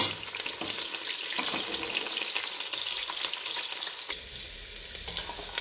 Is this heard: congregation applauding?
no